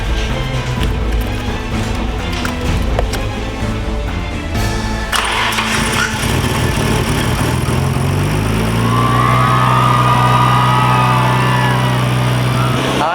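A Toyota Tacoma engine cranks and catches partway through, then settles into a steady, even idle that runs on loudly to the end.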